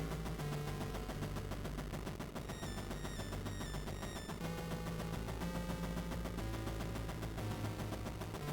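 Gunfire in the Game Boy Color game Dracula Dark Reign, rapid chiptune shot blips set within loud, continuous, buzzy 8-bit music and effects, with no talking.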